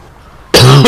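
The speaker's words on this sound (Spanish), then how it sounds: "Tenía que toser." A single sharp, loud cough bursts out close to the mic after near silence, with no talk around it.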